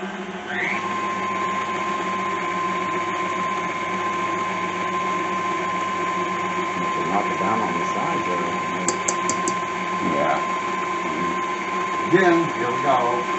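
A kitchen stand mixer whirs steadily while kneading pierogi dough, a constant motor hum running throughout, with a person talking over it and occasional clinks near the end.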